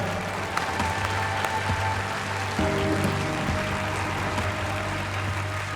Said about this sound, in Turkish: Bir kuvvetli alkış daha lütfen.